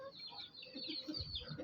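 Hens and chicks of an aseel flock cluck softly in a steady, close, low-level murmur of fowl calls, with no talk over it.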